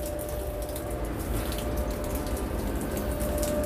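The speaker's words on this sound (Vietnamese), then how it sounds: "Mưa quá trời mưa" Heavy rain pours down in a steady, dense hiss with scattered drops striking surfaces nearby, continuous and fairly loud, with no talking.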